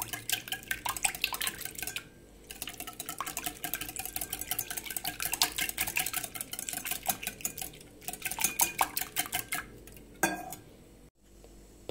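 Pancake batter for blini made with boiling water being mixed thoroughly by hand in a bowl, giving rapid rhythmic clinking and stirring strokes close by, with brief pauses.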